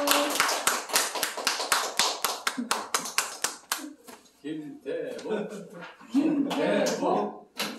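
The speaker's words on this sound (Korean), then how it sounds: "뜨거운 박수" A church congregation claps to welcome a missionary, with a brisk, rhythmic burst of hand claps for several seconds that thins out and gives way to someone talking.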